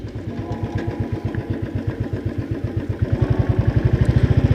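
A Royal Enfield Thunderbird 350 motorcycle rolls slowly in fifth gear, its single-cylinder engine thumping in a steady, close, loud beat that quickens slightly toward the end.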